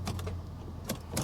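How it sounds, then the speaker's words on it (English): A Mercedes SL63 AMG's starter gives a few faint, sharp clicks without cranking the engine, quiet against a low hum inside the car at an auction yard. "I hear the starter just clicks"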